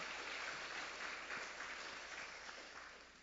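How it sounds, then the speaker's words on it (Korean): A church congregation at a Sunday morning service claps in thanks, a faint, even wash of applause that slowly tapers toward the end. "우리 하나님께 박수로 감사하겠습니다"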